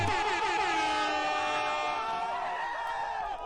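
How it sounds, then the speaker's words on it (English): A blaring air horn alert on a gaming livestream: a loud, sustained multi-tone horn blast with wavering pitch that holds for over three seconds before cutting off. "We got to get the air horns in the goddamn"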